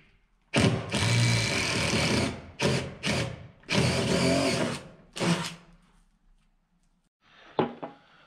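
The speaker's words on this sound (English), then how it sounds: "I've got my hole drilled up big enough for these little wire clamps that come with this box." A power drill bores a hole for an electrical box during loft wiring work, several loud close bursts of whirring of varied length separated by brief pauses, then a quieter handling clatter.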